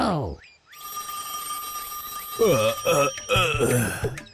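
A telephone rings in a Bengali comedy scene with a sharp, bright electronic trill that starts after a short pause and rings on steadily, while voices speak over the second half.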